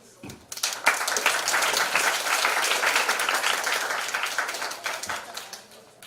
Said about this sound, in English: Let's give the professors a round of applause to welcome them.